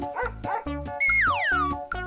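A cartoon dog gives a couple of short barks over bouncy music, followed by a sliding boing-like whistle effect, all fairly loud and close.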